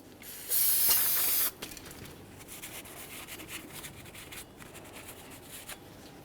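A short, loud spray of cleaner hisses for about a second on the brake rotor hub mating surface of a 2003-2011 Mercury Grand Marquis, followed by quieter scrubbing and rubbing in a garage.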